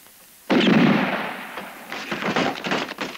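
A gunshot in a spaghetti western cracks out suddenly after a beat of quiet, then a rumbling echo follows with scattered pops and clatter trailing off behind it.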